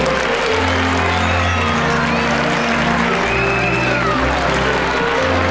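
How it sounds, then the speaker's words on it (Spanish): A crowd of children applauds and cheers the Three Kings at the Caravaca de la Cruz parade on the evening of 5 January, a dense, steady roar of clapping and shouting over deep, droning band music. "los niños de Caravaca, con un fuerte aplauso"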